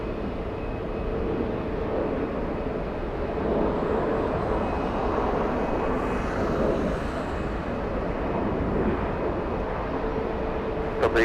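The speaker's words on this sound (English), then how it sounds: "We have an Airbus A380, Lufthansa 452 flying in from Munich, lands at" A Lufthansa Airbus A380 inbound from Munich lands at LAX, giving a steady, broad jet roar that swells slightly midway and stays loud and continuous throughout, with no voices.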